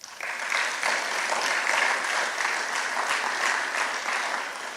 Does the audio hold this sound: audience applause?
yes